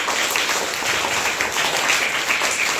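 Loud, continuous clapping from a class of students at a Hindi lesson, a dense even roar that holds steady from start to finish.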